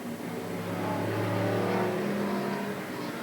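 Race cars at the Willamette Speedway oval coming out of turn four, a pack of engines swelling as they pass and then easing off, a continuous mid-distance roar without speech.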